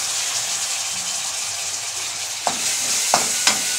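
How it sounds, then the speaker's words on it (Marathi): Potato is stirred into a sizzling prawn masala in a pan, with a steady close frying hiss and a few sharp scraping stirs near the end, and no voices. "तर याच्यामध्ये बटाटा टाकलेला आहे। आता ती चांगल्यापैकी मिक्स करून घेत आहे।"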